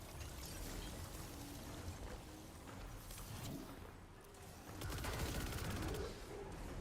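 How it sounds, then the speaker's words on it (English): Pulse rifle fire in Destiny 2 crackles in rapid bursts, mixed with clattering mechanical weapon sounds and chaotic battle noise. Fairly faint, with a denser flurry of shots near the end. "I thought I was shooting the pulse rifle."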